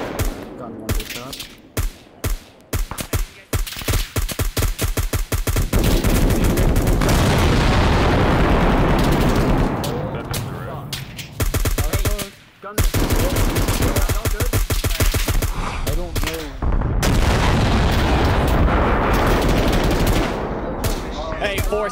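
Heavy gunfire in a realistic warfare game: rapid machine-gun bursts and single shots crackle at first, then merge into a sustained roaring fusillade with booms, loud and near, only briefly broken by short pauses.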